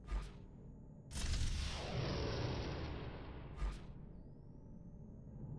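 Torpedoes striking a ship in the space game Astrox Imperium: a sharp blast followed by a long roaring rumble that fades, with another brief impact near the end over a faint electronic tone.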